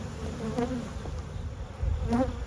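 Honeybees buzzing from an opened hive during an inspection, a steady close insect drone with a couple of louder swells as bees pass near.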